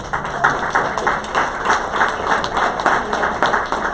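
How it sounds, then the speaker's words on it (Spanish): A church congregation applauds the women during a Sunday service, a steady patter of many hands clapping at moderate loudness with a faint murmur of voices underneath. "Vamos a darle un aplauso a las mujeres."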